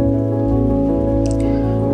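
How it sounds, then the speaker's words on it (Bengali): Rain falls in a steady, continuous wash of patter that lasts throughout, with a constant low tonal hum running beneath it. "ঝিরিঝিরি অথবা মুষলধারা বৃষ্টির শব্দে, মনে ভিন্ন জগতে হারিয়ে যায়।"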